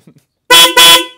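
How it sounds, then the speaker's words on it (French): Two car horns, one from a Citroën C3 and one from a VW Golf, fitted together on a Citroën BX, sounding in two loud, close, blaring honks in quick succession. "Tu nous fais un petit coup de klaxon, hein? Il y en a un de C3 et un de Golf."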